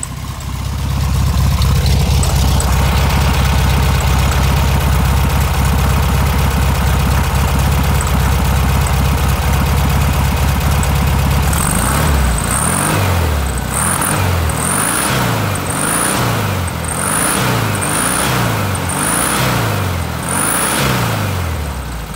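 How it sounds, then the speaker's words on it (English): A 1965 Volkswagen Beetle convertible's engine idles loud and close, then settles into a rhythmic, repeating rise-and-fall pulsing of revs, each cycle a wavering surge over the steady throb, with no voices. "Sounds like you would expect a Beetle to sound."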